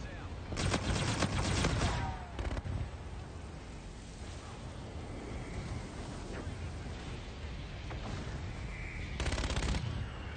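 Rapid bursts of automatic gunfire in a multiplayer shooter game, loud and close at the start and again near the end, with quieter ambient game noise and a few stray shots in between.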